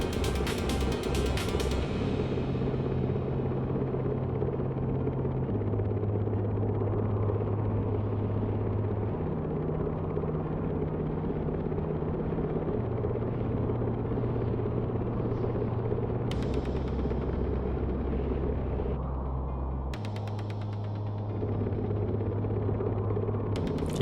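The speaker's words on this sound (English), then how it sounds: "Keep in mind that ship is going 15 knots and this helicopter's super stable while doing it" A video game helicopter holds a steady hover over a ship moving at 15 knots, a constant low engine rumble with stepped shifts in pitch and a few brief higher bursts, loud and unbroken, no voices.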